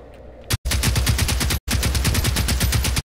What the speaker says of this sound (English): This gun is going crazy.